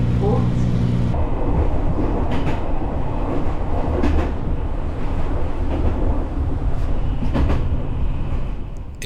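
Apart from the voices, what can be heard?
Fujikyu Railway commuter train running between Kawaguchiko and Fujikyu Highland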